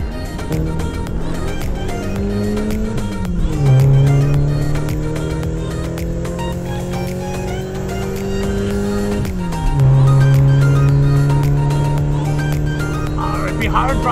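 Cartoon car engine hums steadily and rises in pitch as it drives off, with a couple of swooping gear-shift drops, loud and close, accompanied by music and voices.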